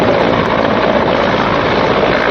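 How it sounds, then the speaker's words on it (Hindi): An Air Force Mi-17 helicopter spraying water over a forest fire near Nainital, Uttarakhand, produces a loud, continuous rotor and engine roar, close and filling the whole moment with no voices. "इधर एयरफोर्स के Mi-17 हेलीकॉप्टर से भी पानी की बौछार की जा रही है"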